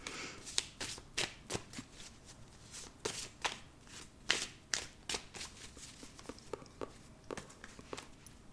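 A deck of oracle cards is shuffled close up, giving quick, irregular papery slaps and riffling taps in uneven bursts, quiet and without talk.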